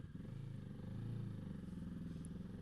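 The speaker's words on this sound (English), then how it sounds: "I'm going to pull up in 2nd gear and go" A Kawasaki 650 motorcycle pulls away in second gear, its engine giving a low, steady drone that swells gently as it gathers speed, heard close with faint wind rumble and no speech.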